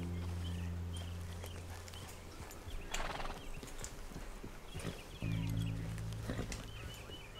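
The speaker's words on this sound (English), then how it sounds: "Grab your horse and let's go." A horse's hooves clip-clop in steady rhythm in the Red Dead Redemption 2 video game, with ambient noise and occasional louder steps and rustles. The sound is fairly close and faint overall, with no talk.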